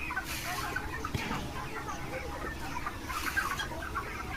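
Chickens cluck and chatter in a poultry farm housing about 6000 birds, a dense, moderately faint flock murmur with scattered individual clucks.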